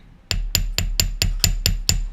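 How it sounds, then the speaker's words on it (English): A small-faced chasing hammer strikes a wire coil on a steel bench block, nine sharp metallic taps in a steady, even rhythm, close and ringing, with no talking. "we'll just hammer it"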